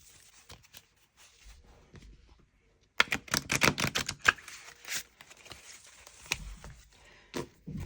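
A deck of cards is shuffled by hand, with quiet scattered flicks at first, then a burst of rapid riffling clatter and several shorter bursts, close and fairly soft, with no voices.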